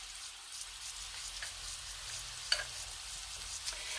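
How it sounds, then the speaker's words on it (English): Garlic shrimp frying in a pan, a faint, even crackling sizzle with occasional small pops and a brief clatter of handling, steady throughout with no voices. "Hear that sizzle?"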